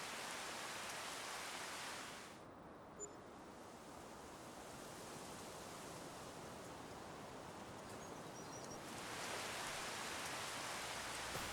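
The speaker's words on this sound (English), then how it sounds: "It is raining like a storm." Heavy storm rain in Farming Simulator 25, a dense steady hiss of downpour that drops to a quieter, duller rush for several seconds before returning at full strength.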